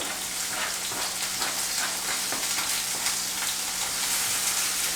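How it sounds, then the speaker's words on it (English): Steady crackling sizzle of onion and garlic frying in a hot pan, continuous and close, with faint stirring clicks and no voices. "I'm just going to hop over to the frying pan and pop this onion in"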